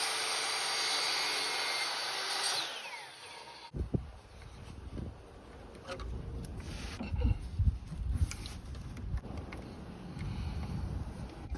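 A power tool whines loudly while cutting plastic pipe inside a converted school bus, then cuts off, followed by scattered knocks and handling clatter.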